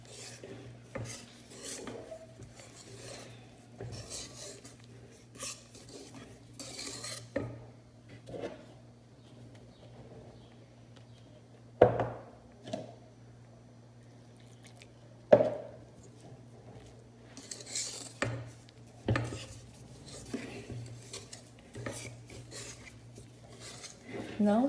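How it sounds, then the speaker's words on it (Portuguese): Cake batter is folded by hand after milk is added, stirred from the bottom up in one direction, making soft scraping and rubbing strokes with scattered knocks of utensil against bowl, in irregular bursts over a low steady hum; no talking. "Aí eu coloco o leite e vou mexendo baixo para cima, sempre na mesma direção"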